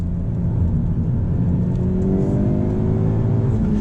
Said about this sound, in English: Let's just downshift to second for the fun of it. We're going to rev match.